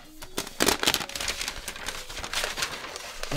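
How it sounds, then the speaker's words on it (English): Recycled paper packaging from a MacBook Pro box crinkles and crackles close up, a dense continuous rustle with a sharper burst near the start. "this is going to be some kind of recycled paper, it sounds like"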